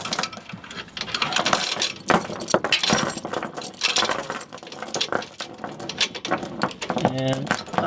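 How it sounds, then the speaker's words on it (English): A metal chain routed around a Jeep axle near the brake lines rattles and clinks in irregular bursts of jangling links, close by, with a short tonal whine near the end. "So we're going to route the chain around the brake lines."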